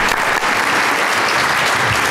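Dense, loud applause from an audience after a presentation, a steady wash of many hands clapping throughout.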